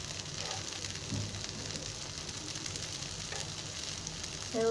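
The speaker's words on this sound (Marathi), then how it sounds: "आपण तेलात सोडून वडे फ्राय करून काढले ना" Sabudana vada, tapioca pearl fritters, deep-frying in hot oil give a steady, close sizzle and bubbling throughout, ending with a short clatter as a utensil moves in the pan.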